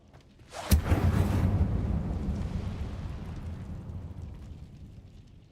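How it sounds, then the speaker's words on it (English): The Incendio fire spell cast in the video game Hogwarts Legacy bursts with a sharp crack, then settles into a loud, rumbling roar of flame that slowly fades. "Can we burn this? Incendio."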